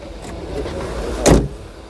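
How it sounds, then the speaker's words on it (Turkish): A single solid clunk as the engine hood of a Honda Accord is released and opened, a short thump close by against a low, steady background. "şu motor kaputunu açıyorum"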